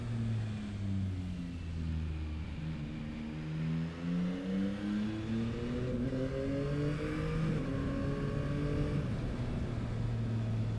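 Yamaha MT-09 SP 2021 motorcycle riding on the road, its engine note rising steadily through the revs with a smooth shift, then climbing again, loud and continuous with steady wind rumble.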